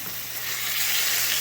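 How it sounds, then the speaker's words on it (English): Burger patties fry in a hot pan, giving a steady bright sizzle that stays loud and close, with no talking. "you can hear that sizzle"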